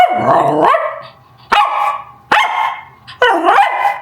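A dog barks close by in four loud, separate barks spaced about a second apart, alone without talk.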